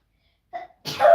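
A single sharp sneeze, preceded by a short intake of breath, close and loud in an otherwise quiet space.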